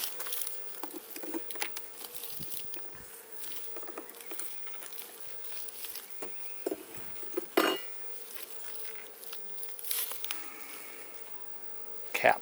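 Honey bees buzzing in a continuous soft hum during a beehive inspection, with faint rustling and scraping of hive frames and a few louder clicks.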